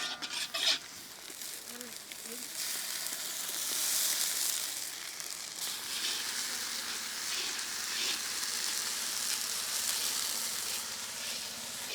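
Onion pieces with ginger garlic paste fry in hot oil, a steady soft sizzle and hiss with occasional stirring clinks of a spoon against the pan.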